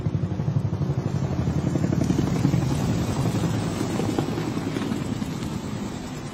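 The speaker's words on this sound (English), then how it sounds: "what we just witnessed a while ago is the Nigerian aircraft, the helicopters, just observed flying past" Nigerian Army helicopters pass overhead at an Army Day celebration in Port Harcourt, their steady rotor and engine drone rising to a peak and slowly fading, with some wind rumble.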